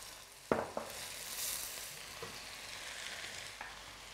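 Sweet corn tipped into a hot frying pan, with a steady sizzle under a couple of sharp knocks of a spoon against the pan and soft stirring scrapes, close and fairly loud.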